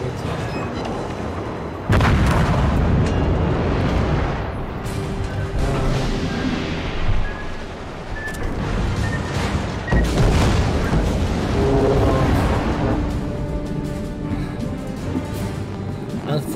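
Naval guns firing in the World of Warships video game, a loud continuous wash of heavy booming salvos and rumbling blasts with game effects layered over it, close and dense, with someone talking faintly beneath.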